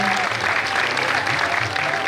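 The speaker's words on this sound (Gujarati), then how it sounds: "મિત્રો જોરદાર તાળીઓથી વધાવીએ એમને." An audience claps for a prize winner at a community student-felicitation ceremony, a loud, dense, continuous wave of hand claps filling the hall.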